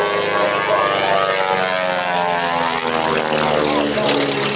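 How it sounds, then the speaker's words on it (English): A Beech 18 propeller airplane drones loudly overhead flying aerobatics, its engine pitch shifting as it maneuvers, with a faint voice beneath the roar. "Flying around in that big brute of an airplane"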